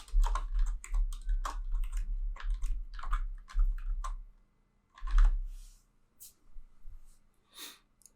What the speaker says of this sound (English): I'll just type a simple phrase